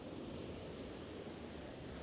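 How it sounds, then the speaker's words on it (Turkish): Ocean waves roll along the Bali coast as a soft, continuous roar of surf mixed with wind noise, faint and even without distinct breaks. "Bu bölgeler çok dalgalı ve her zaman aslında dalga böyle var"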